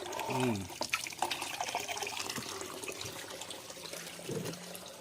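Water runs from a tap into a basin while boiled herbal water is cooled for a bird bath, a steady close splashing hiss that continues throughout as someone talks over it.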